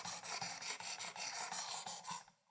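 A knife blade rasps in quick, rhythmic back-and-forth strokes over a 600 grit abrasive on a Precision Adjust sharpener, close and fairly quiet, about a dozen even scraping passes before it stops.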